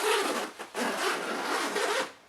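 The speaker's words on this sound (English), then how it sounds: "there is a sort of overlapped flap around another zipper. I'm just going to open that part up." A zipper pulled open on a large f.64 BP camera backpack, one steady rasping run lasting about two seconds, close and loud with a brief catch partway through, no talking.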